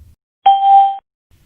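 A single clear electronic ding from a phone dialer as a call connects, one sustained tone lasting about half a second with an abrupt start and a clean cutoff, heard alone in silence.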